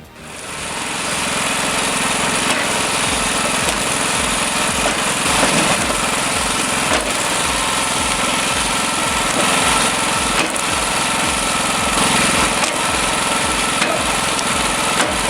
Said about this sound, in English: this beast splits logs with piston-pounding precision